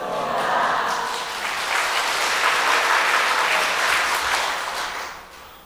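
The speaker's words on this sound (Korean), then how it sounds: "박수까지 치시니까 좀 민망한데요" A church congregation claps warmly during a service, a full, steady round of applause that swells and then fades out near the end, with no voices over it.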